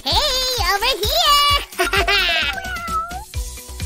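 Kittens meow repeatedly, loud and close, with rising and falling cries overlapping one another in quick succession, some high-pitched and drawn out.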